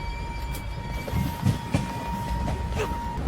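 A train rolls along in motion, with a steady low rumble of wheels on rails, a few louder knocks and clanks, and a faint high squeal running through.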